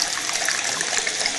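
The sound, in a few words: yeast poured through a funnel into stout wort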